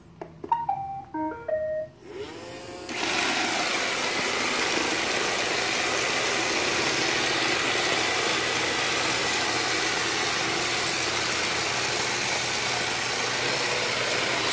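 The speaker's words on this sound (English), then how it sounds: "iRobot Roomba side motor fixed" An iRobot Roomba robot vacuum with a newly repaired side brush motor plays a short startup chime, then starts up and runs with a steady whirring motor hum and brushing noise, close by, with no talk.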